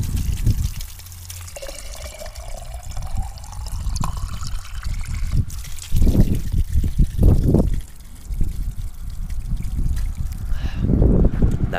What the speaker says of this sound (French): La bonne eau de source fraîche.